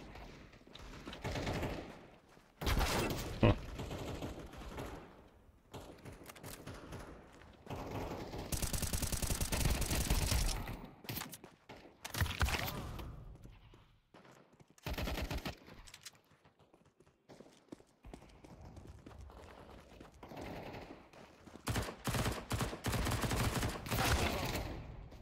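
Rapid bursts of gunfire in the video game Counter Strike 2, loud and close, firing in repeated volleys with brief pauses between them, mixed with mechanical clicks of weapon handling.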